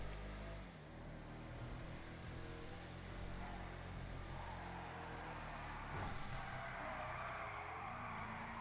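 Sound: car driving in video game GTA 5

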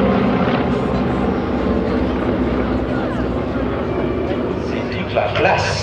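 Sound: piston engines of Douglas DC-3 and Beechcraft 18 aircraft flying

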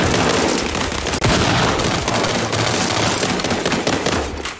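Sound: gunfire in the video game World War 3

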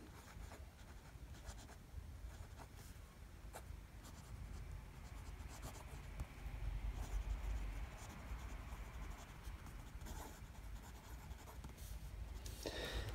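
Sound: Butterknife Creations Orion fountain pen writing on Rhodia paper

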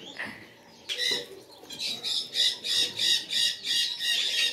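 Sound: flamingo squawking

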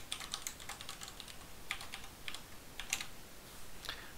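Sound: typing a password on a computer keyboard

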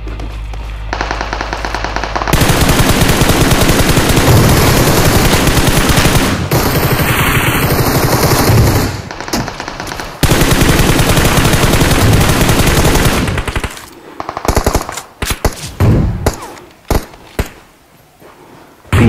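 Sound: machine gun fire in PUBG Mobile, a video game

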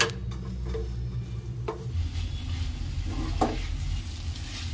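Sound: stirring roti pieces with spices in a pan over medium flame

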